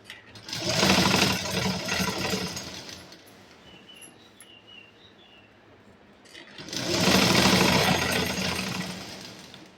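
An electric sewing machine runs a straight seam on an eight-panel cotton underskirt, a loud close whirring hum in two sustained bursts separated by a quieter pause of a couple of seconds.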